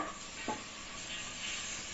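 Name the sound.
stirring and frying chopped onion and carrot in hot oil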